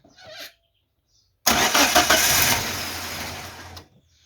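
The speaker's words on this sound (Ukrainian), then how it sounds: "Стартер крутя." A Geely car's starter motor cranks the engine in one loud, steady burst of whirring lasting a couple of seconds, after a short silent pause, while the engine is struggling to start.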